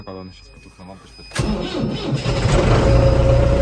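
An MTZ tractor engine cranks and catches, then settles into a loud, rough diesel idle after a brief moment of talk over the starter.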